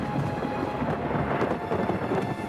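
Thunder rolls through a rainy thunderstorm in an animated firefighter series, a continuous loud rumble mixed with dense rain, steady throughout without any voices.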